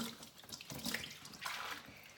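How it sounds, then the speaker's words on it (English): A bunch of fresh cilantro, roots still attached, sloshed up and down in a bowl of cold water, giving close, continuous splashing and swirling with brief louder surges. "So I'm just going to swish it in my cold water, roots and all."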